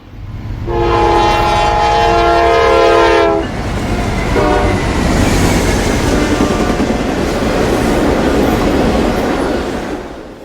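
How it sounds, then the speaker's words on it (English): A Norfolk Southern freight train, 24M, approaches from the west in Ohio, sounding a loud, sustained multi-chime horn close by, followed by a steady roar of wheels and rumbling cars passing, with a brief second horn note. "Train 24M approaches from the west."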